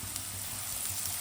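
Capsicum frying with mixed vegetables in a pan, a steady soft sizzle heard close and alone, at low level without pauses.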